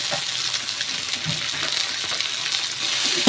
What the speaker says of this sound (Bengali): আর পেঁয়াজটা দিয়ে ভালো করে ভাজা ভাজা করে নিচ্ছি